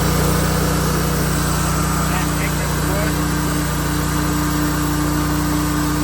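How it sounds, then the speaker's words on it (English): Sawmill, a Hud-son Oscar 336 cutting a log, running with a constant loud mechanical drone and a steady high whine as the bearing spins up, with a faint voice under the noise. "I hear the bearing starting to spin up"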